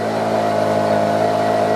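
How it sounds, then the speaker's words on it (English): A PC50 paddock vacuum cleaner's small engine hums and whirs at maximum revs, a steady buzzing drone held close by with no talking. "you gently squeeze on and you'll hear the revs going up"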